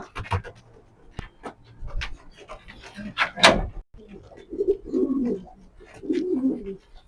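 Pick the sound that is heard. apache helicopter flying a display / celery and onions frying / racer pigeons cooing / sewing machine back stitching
racer pigeons cooing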